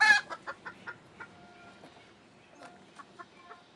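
Chickens in a chicken house and yard cluck as they wake up. A burst of close clucks opens, then scattered softer clucks trail off.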